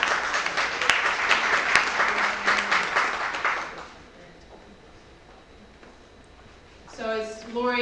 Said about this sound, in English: let's everybody applaud and thank her